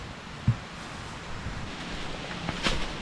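Dry wind blowing outdoors makes a steady, rushing broadband roar across the whole clip, with a couple of brief soft knocks near the start and end.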